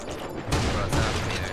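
Shotgun blasts ring out in a Creative Destruction match, two loud, close shots about half a second apart.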